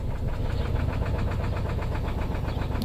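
A 2009 Subaru Forester engine idles in neutral with a suspected rod problem, giving a close, steady low rumble with a rapid rhythmic ticking or knocking pulse running through it, no voices present.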